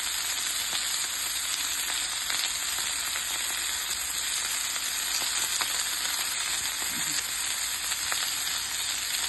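Chicken and beef kofta sizzle in a grill pan with a steady, close, loud frying hiss that never lets up, and there is no talking over it.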